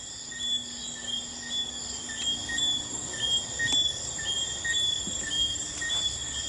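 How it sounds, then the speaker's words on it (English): Crickets chirp steadily outside at night, a dense layer of high, pulsing trills with soft background hiss; any frog calls stay faint and blend into the insect chorus. "you can hear those like crickets and frogs and stuff outside"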